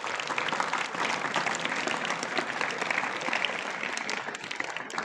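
Audience applause in a hall during a Hindi speech, dense steady clapping that fills the full five seconds at close range, with no talk over it.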